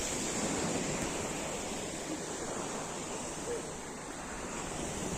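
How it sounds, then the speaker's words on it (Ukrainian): Waves of the Tyrrhenian Sea wash steadily onto the beach at Torvaianica, a dense, even hiss of surf mixed with wind rumble on the microphone, close and continuous with only slight dips in loudness. "Ой, як класно хвиль"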